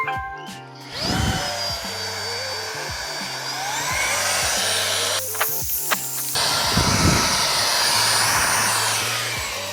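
Jimmy HW10 washing vacuum cleaner working a car seat pocket, a loud steady suction whine with rising and falling pitch, broken by short bursts of harsher hissing and scraping as the nozzle moves, no speech.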